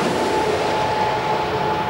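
The Emsland maglev magnetic levitation train glides past with a steady, loud whooshing rush and a faint high whine, no wheel clatter, continuous throughout.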